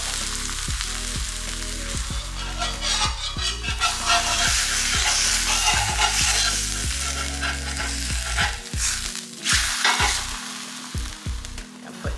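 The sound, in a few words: corn tortilla dipped in fat, frying on a hot pan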